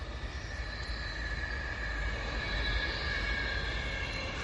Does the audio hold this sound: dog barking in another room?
no